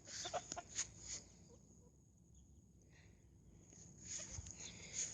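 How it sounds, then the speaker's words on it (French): A Serama bantam rooster and hens cluck in a small backyard flock, a few short sharp calls at the start and end around a quieter stretch of faint background noise. "Mon coq de Serama nain, voilà."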